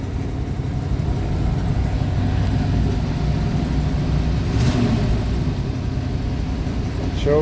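An International Travelall engine runs at a steady idle, a low continuous rumble close by, while a person talks over it.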